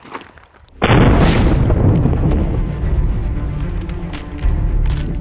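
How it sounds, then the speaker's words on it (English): A 9mm self-defense round fires into ballistic gel blocks with a single loud, sharp report, followed by a long echoing rumble and outdoor noise that fades slowly. "That was a lot of penetration. That went through the first gel block and into the second gel block before it stopped."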